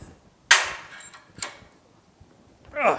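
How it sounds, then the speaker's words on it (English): A hammer taps a sheet metal patch panel clamped tightly in a vise, part of a rusted window channel repair on a GTO: three sharp, ringing metallic strikes spaced about a second apart, close and clear in a quiet shop. "So we're just going to start tapping on this thing."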